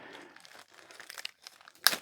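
A plastic bag from a box of charity-shop electronics being taken apart crinkles and rustles close up in irregular bursts, ending in a sharper crackle.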